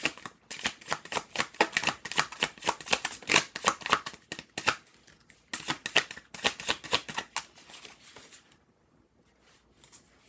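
A deck of playing cards is shuffled by hand in repeated quick riffles, giving crisp, rapid fluttering bursts that are close and clear. The shuffling stops near the end and leaves near silence.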